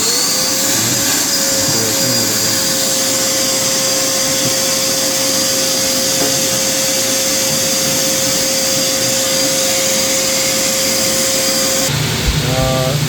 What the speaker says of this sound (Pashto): روټ او برش دی پکې دننه ویکیوم دی پکې ایږي هغه ټول ګند راکاږي ځان ته سک کوي یې